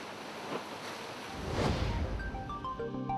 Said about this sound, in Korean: 갯바위에 부서지는 파도 소리